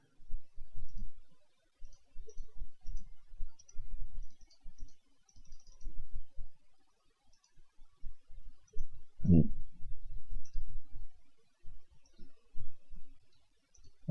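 Computer mouse clicks on a PC while setting up a custom track in the racing game GeneRally 1.2d: soft, irregular clicks in scattered bursts, with one sharper click partway through.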